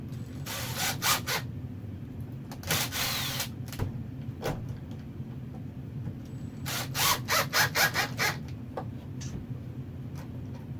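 A power drill drives screws into a non-structural mounting plate, heard as three short whirring bursts with quiet pauses and small clicks between them, close and fairly loud.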